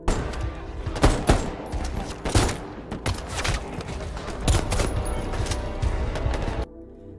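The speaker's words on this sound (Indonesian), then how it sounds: "hingga terjadilah aksi tembak-tembakan" Rapid bursts of gunfire in a film shootout, sharp repeated shots and volleys overlapping in a chaotic exchange, loud and close, ending abruptly into near silence.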